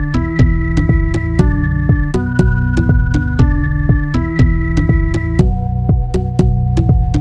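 A Play Series instrument preset from the Maschine Higher Place expansion runs as a looping four-bar pattern: steady, loud rhythmic hits with sustained tonal chords that shift every bar or so, alone without talk.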